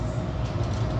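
A Hitachi train on Lima Metro Line 2 rumbles with a low, steady, close drone and a faint rattle, without talk.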